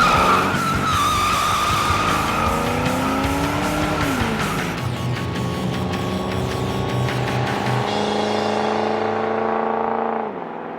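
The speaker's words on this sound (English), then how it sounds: "you might get to see this muscle car doing what it does best" A 1974 Plymouth Barracuda muscle car skids with a sustained, loud tire squeal over a roaring engine whose pitch rises and falls, then fades out at the end.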